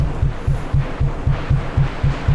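Straight noise from a Korg Minilogue synthesizer's noise oscillator, with other oscillators removed, pulses in a steady rhythm of about eight low throbbing bursts under a faint hiss, with no talking.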